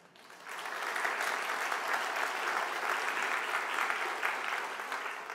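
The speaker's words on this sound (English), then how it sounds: "so that already deserves an applause" An audience at an artist talk at the Kunsthal gallery breaks into applause. The clapping swells within half a second into sustained, dense hand-clapping that holds evenly for several seconds before starting to taper.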